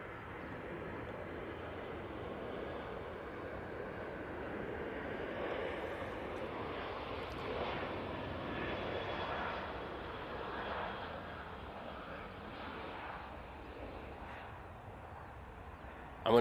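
An airliner beginning to taxi at Manchester Airport, a steady broad engine roar held at moderate level throughout, heard from some distance with no clear talking over it.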